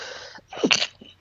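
A single sharp sneeze bursts out close to the microphone in a quiet room, with a short breath just before it and a faint murmur after.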